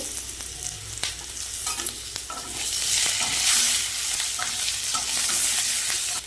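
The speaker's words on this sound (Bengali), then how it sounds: "এবার আলুগুলো ভেজে নেব এবার লঙ্কা দিয়ে দেবো" Potatoes and chillies frying in hot oil, with a loud, steady sizzle broken by the scrape and clatter of a spoon stirring them in the pan at close range and no voices.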